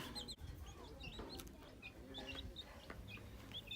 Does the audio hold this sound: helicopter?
no